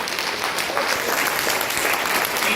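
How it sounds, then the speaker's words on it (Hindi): An audience at a business seminar breaks into loud, sustained applause, a dense, even clatter of many hands filling the room without pause. "जबरदस्त सर के लिए जोरदार तालियां"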